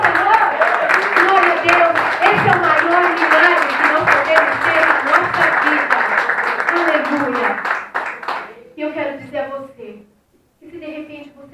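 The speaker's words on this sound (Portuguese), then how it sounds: "Você pode aplaudir o Senhor?" A church congregation applauds during a Wednesday worship service, dense sustained clapping mixed with voices that fades out near the end, leaving a few scattered bursts of cheering or speech.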